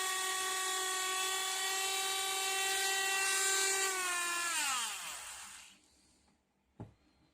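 Small mini lathe spinning a needle while it is shaped into a flathead screwdriver, a steady high motor whine that winds down and fades out, followed by one brief sharp tap.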